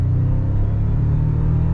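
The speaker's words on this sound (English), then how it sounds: "We'll go ahead and full throttle just a little bit." A 2024 Toyota Tacoma TRD Off Road with the i-FORCE MAX hybrid powertrain accelerates at full throttle, giving a loud, close, steady low engine rumble with no talking.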